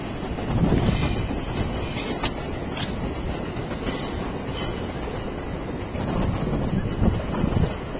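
A Tokyo train rumbles past with rolling low-frequency clatter and wind buffeting the microphone, swelling louder near the end.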